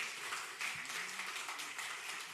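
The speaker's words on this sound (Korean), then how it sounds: "다시 한번 큰 박수로 영광 돌리십시다" A church congregation applauds during a Korean sermon, a faint, even hiss of many hands clapping, distant and unbroken, with no distinct voices above it.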